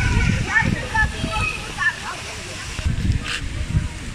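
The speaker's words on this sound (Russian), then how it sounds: "Также тут есть водопадик." Water from a small waterfall at a hotel pool in Pattaya splashes in a steady wash, with a voice talking over it at close range.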